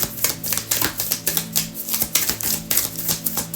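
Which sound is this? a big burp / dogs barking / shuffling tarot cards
shuffling tarot cards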